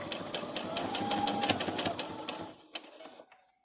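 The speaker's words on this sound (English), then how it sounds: "I'm getting ready to sew the mask." A sewing machine stitches slowly through several layers of fabric for a face mask, a close rapid train of needle clicks that runs for a few seconds and then stops, leaving a couple of faint taps.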